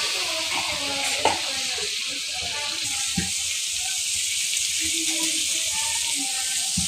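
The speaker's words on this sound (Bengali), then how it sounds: "এই মশলাগুলো ভালো করে কষাইয়ে নিতে হবে।" Turmeric and dry chili powder spices sizzle steadily in a hot pan, a continuous frying hiss with faint stirring scrapes throughout.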